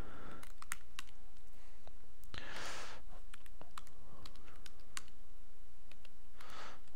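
Someone types on a computer keyboard while playing an emulated Commodore game, a quiet stream of irregular key clicks over a low background hum.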